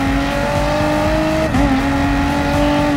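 Car engines in the racing video game Gran Turismo Sport hold a steady loud drone, dip briefly as if shifting gear, then pick up again, with no talking.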